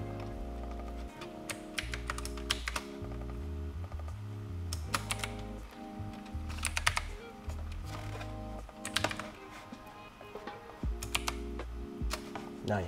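Steady, fairly quiet typing on a computer keyboard while entering a clothing brand name into a T-shirt design layout, with irregular clusters of key taps and occasional louder strikes throughout.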